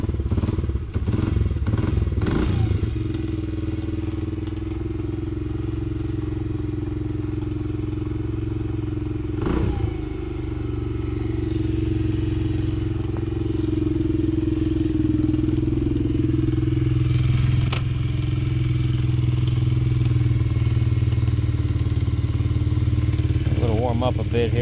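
A Honda XR70 motorcycle with an 88cc BBR big-bore kit, re-jetted carburetor and choke applied, kick-starts after a few thumps and settles into a steady, close, continuous idle, with someone talking over it.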